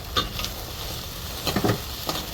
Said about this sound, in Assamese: এতিয়া আদা নহৰু দি অকণমান এয়া ভাজি লওঁ।